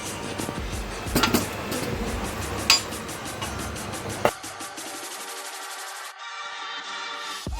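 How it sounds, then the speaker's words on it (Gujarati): Fried potatoes tipped from a pan into a bowl while cooking Kashmiri dum aloo, with a few close metallic clinks and scrapes over steady kitchen background. "હવે બધા બટાકાને આપણે એક બાઉલમાં ટ્રાન્સફર કરી લઈશું"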